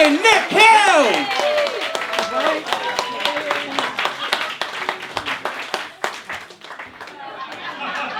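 A pub comedy-night audience in Evesham claps and cheers as a comedian takes the stage: loud applause with whoops at the start, easing into a steady patter of clapping and murmured chatter.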